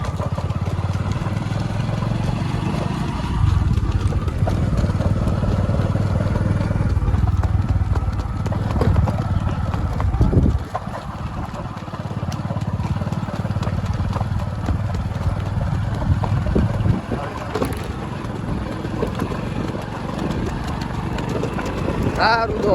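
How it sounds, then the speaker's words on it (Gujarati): Hooves of a Kathiyawadi horse clip-clop steadily through a long ride, a close, continuous rhythm under heavy outdoor noise, with a rider calling out now and then. "હા રાજો હા ઘોડો જવા દે."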